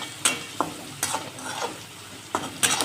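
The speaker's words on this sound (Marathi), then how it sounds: "मिरची थोडी भाजून घेऊ त्याला." Green chillies fry in a pan for egg bhurji, sizzling softly while a spatula stirs and scrapes in several sharp, irregular strokes.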